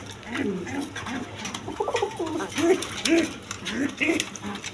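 A pair of local Golla pigeons sitting on eggs coo softly in short repeated rolling phrases, close and low, with faint background noise and some talk.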